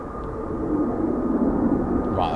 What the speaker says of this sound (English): we've got an Embraer in the circuit